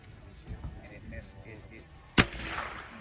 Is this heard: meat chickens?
no